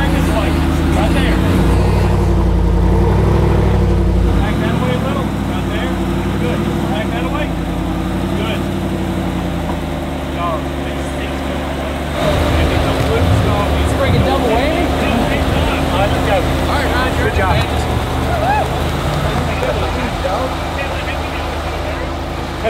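Jeep off-road vehicle on lizard finger tires rumbling and revving loudly and steadily, engine noise swelling partway through, with people talking over it at an off-road trail event.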